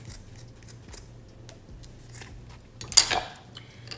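Scissors snipping the toes off a sock for a DIY sock bun, a single sharp close metallic cut near the end of a mostly quiet stretch with faint low hum.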